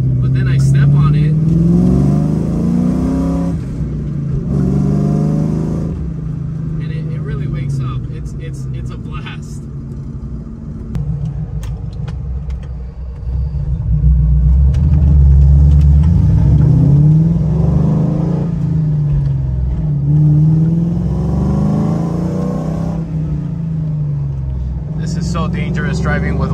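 A 2001 Ford Mustang GT with bolt-on modifications accelerates from inside the cabin, its loud engine rumble rising and falling through several revving pulls, with talking mixed in over the drone.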